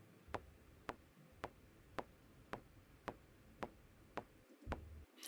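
A metronome clicks at 110 BPM, sounding as a steady run of crisp, evenly spaced single ticks, close and fairly quiet against a faint background.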